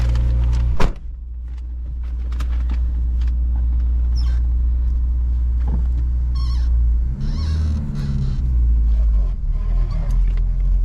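A 1989 Toyota Pickup SR5 4x4 with a manual clutch driving along, heard from inside as a loud, steady engine and road rumble. A sharp knock comes near the start and light rattles follow, with no talking.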